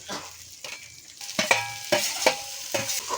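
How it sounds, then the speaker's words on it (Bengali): A spatula stirs a spiced fish-head curry mixture with potato as it fries in a pan, several close, rhythmic scraping strokes over soft sizzling, with no voices. "আমরা খুব ভালো করে সবগুলো একসাথে মিক্স করে একটু ভেজে নেব 2 মিনিট মতো"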